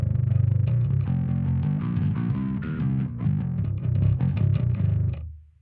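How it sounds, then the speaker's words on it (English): An electric guitar plays a short riff through a Neural DSP Darkglass plugin's buzzy, synth-like distortion, rich and sustained before cutting off and decaying. "We've got synth distortion."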